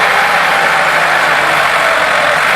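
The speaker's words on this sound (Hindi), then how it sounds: "ट्रैक्टर की पावर भी चेक करा रहे हैं।" Massey Ferguson 385 tractor engine laboring under a heavy load on wet, soft ground, a steady loud mid-range drone that stays constant and close throughout with no talk over it.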